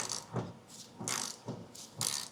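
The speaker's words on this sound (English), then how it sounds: "Let's get this old bolt off." An old bolt on a 1972 Opel GT radiator worked loose with a ratchet wrench, heard as a few close bursts of ratcheting clicks in quick strokes, with no speech.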